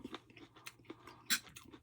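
Close-up chewing of crunchy grilled, lightly buttered corn, with irregular soft crunches and bites and one louder crisp crunch, no talking.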